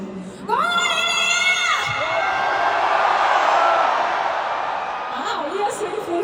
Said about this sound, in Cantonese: 我呢一聲歡呼好雄壯啊